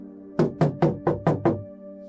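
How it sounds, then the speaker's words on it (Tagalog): Six firm knocks on a wooden door land in a steady, evenly spaced run, each one close, loud and sharp, with no voices alongside. "Mang Kikoy, buksan niyo tong pinto!"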